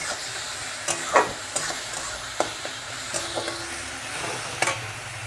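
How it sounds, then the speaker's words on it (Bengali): Ginger garlic paste frying in oil in a pan for egg masala, a soft steady sizzle broken by several sharp scrapes and taps of a spoon stirring against the pan, close and clear with no talk. "দিয়ে এটাকে ভালো করে ভাজবো।"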